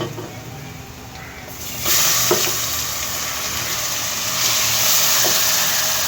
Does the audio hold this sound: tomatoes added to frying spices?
yes